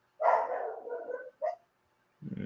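A dog barks outdoors, giving a longer bark followed by a short second yelp and then a brief third sound, each clear and moderately loud against a quiet background.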